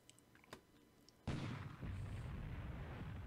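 A naval big gun fires in a World War II strategy game set in December 1941 near Singapore. It starts with faint scattered clicks, then one sudden heavy boom that rolls into a sustained rumbling roar.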